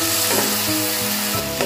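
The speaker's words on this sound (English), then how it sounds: "Just mix it well." Chicken with onion, ginger, garlic and green chili is stirred in a hot pan for spring roll filling, a close, continuous sizzle with scraping spoon strokes.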